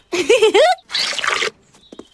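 Detergent squirts into a bucket in a Peppa Pig cartoon: a squeaky, gliding squeeze sound, then a short, bright splash of liquid, both close and loud, with a faint tail.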